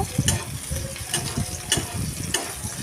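Onions sizzle in a pan while a utensil scrapes and stirs in regular strokes, producing rhythmic scraping bursts over a continuous frying hiss.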